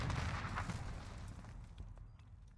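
Muffled gunfire and explosive booms from a Modern Warfare gunfight roll together in a dense, low rumble that gradually fades, distant and faint, with no clear individual shots.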